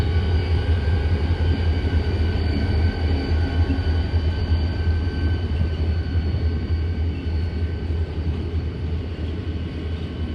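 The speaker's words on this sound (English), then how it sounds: "There's a BNSF train with the Burlington Northern behind it." A BNSF freight train, with a Burlington Northern unit trailing and auto rack cars, passes with a steady low rumble and rolling wheel noise, loud and continuous throughout.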